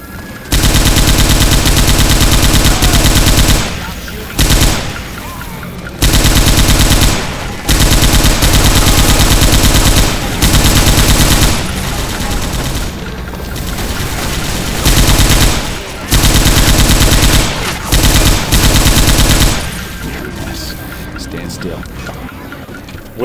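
Loud, sustained bursts of automatic gunfire from Left 4 Dead 2, rattling in long volleys separated by brief pauses, with players talking over the shooting throughout.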